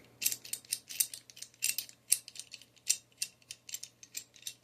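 A 14-inch pipe wrench handled and adjusted up close, a series of quiet metallic clicks and ratcheting scrapes in an irregular rhythm over a faint hum.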